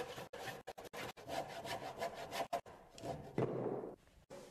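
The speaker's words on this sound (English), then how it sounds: "I'm making my cut with a handsaw" A handsaw cuts a wooden stair carriage in quick, rasping back-and-forth strokes, close and moderately loud, with short pauses between bursts and a brief scraping flourish near the end.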